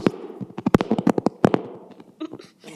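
Rapid crackling bangs ring out in a meeting room during a metro council work session, a dense burst of sharp pops that thins to scattered cracks and then fades, with voices talking over them.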